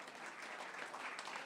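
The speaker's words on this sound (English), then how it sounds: "please clap your hands for Laura Scholar Oates" Steady applause from a crowd at a radio station's broadcaster and volunteer appreciation party, dense and continuous throughout without a break.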